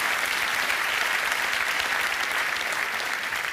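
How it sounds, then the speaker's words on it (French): A theatre audience at a live stand-up comedy show applauds steadily and densely, a continuous wash of clapping that holds at an even, fairly loud level throughout with no voices on top. "Allez-y, vous pouvez les applaudir."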